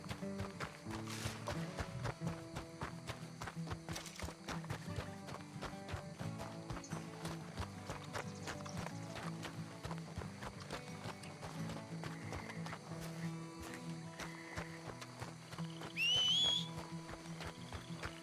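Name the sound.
horse hooves in a video game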